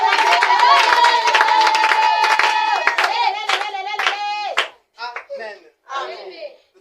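A church congregation claps and cheers for the Lord in loud, dense applause that thins into scattered claps and fades in short bursts at the end.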